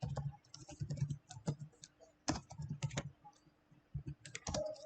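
Computer keyboard typing, bursts of close, quiet key clicks in uneven clusters with short pauses between them, heard alone without talk.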